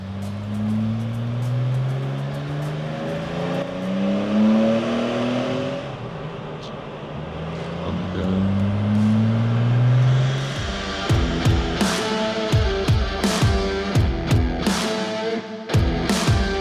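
A car engine surges and revs during tuning work, its note rising and falling in loud, uneven swells, then breaking into a run of sharp crackles and pops near the end, with no voices.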